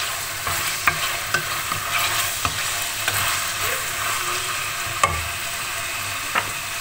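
Chicken with peas sizzles and fries steadily in a pan, with a few sharp stirring knocks and scrapes of a utensil spaced through the sound, close and fairly loud with no talking.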